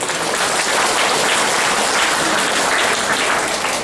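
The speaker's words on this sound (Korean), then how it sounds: "박수 한번 주시기 바랍니다." Wedding guests applaud during the ceremony, a loud, dense wash of many hands clapping continuously and evenly from start to finish, close and full, with no talking.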